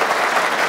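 A studio audience on a televised talk show claps in a brief, loud, dense burst of applause lasting under a second.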